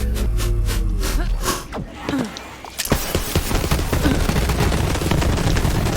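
Rapid gunfire and explosions in Borderlands 3 on the Proving Grounds with a level 50 Moze, loud sustained bursts of shots with booming blasts throughout, nearby and dense.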